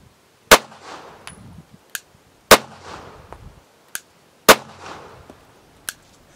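Sig Sauer P365 pistol fired on a range, three sharp loud close gunshots spaced about two seconds apart, each followed by a fainter distant crack and a short echoing tail.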